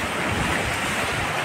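Sea waves roll onto rocky Palshet beach at Guhagar around sunset: a steady, loud wash of surf fills the whole stretch, with gusty wind noise buffeting the microphone.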